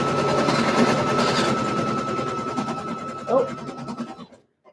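An embroidery machine stitches out a shirt sample, giving a steady, fast mechanical whirring and rattling that runs close and continuous before stopping abruptly near the end, with a brief tonal chirp partway through.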